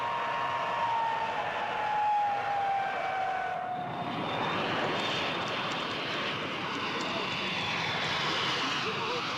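A Comet jet airliner on a flight from Munich and Athens, heard as a loud, steady jet engine roar with a falling whine, continuous and close for the whole stretch.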